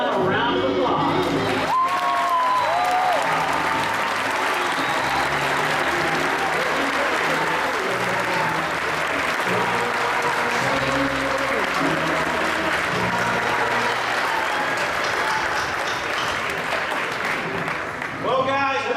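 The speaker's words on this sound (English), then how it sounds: "Please give them a round of applause." A graduation crowd gives a long, sustained round of applause with scattered cheers and shouts, a dense wash of clapping that fills the hall and stays loud throughout, with some voices mixed in.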